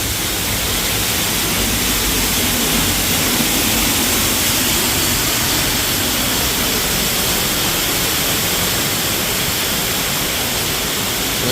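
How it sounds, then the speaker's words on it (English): An intense waterfall beside a small footbridge at Epcot roars as a loud, constant, dense rush of water, unbroken and dominating, with no voices heard over it. "You can see coming across a little footbridge here, they've got a very intense waterfall."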